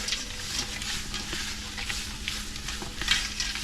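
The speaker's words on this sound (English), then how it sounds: "Let that be sizzling while we're making a little bit of roux." Steady crackling sizzle of spices, including onion powder, frying in a hot pan for jambalaya, close and continuous, with faint scraping from a utensil now and then.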